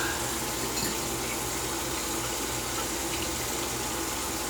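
Tap water runs steadily over a razor held under it, a constant close rushing hiss that fills the whole stretch without pause or voices.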